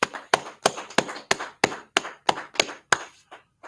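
Sharp, close hand claps in a rhythmic series, about ten evenly timed slaps a third of a second apart, trailing off into a few fainter claps at the end, with no voices.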